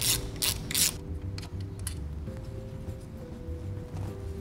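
Ratchet clicking in quick bursts while loosening the two 10 mm thermostat housing bolts on a BMW 335i with the N54 engine, close and crisp over a low mechanical hum.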